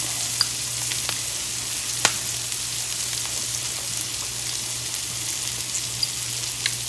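Collard greens sauté in hot olive oil with a steady, even sizzle and occasional sharp pops and crackles, with a low hum underneath and no voices.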